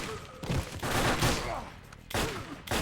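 Gunfire in a Final Fight series game, with loud clustered volleys of shots breaking out in several bursts separated by brief gaps, set against game background sound.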